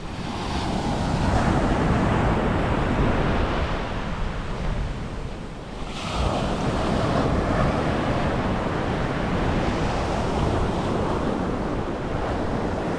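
Surf and wind at Lemo-Lemo beach at midday: a loud, continuous roar of breaking waves with gusty wind buffeting the microphone, briefly easing near the middle before surging back.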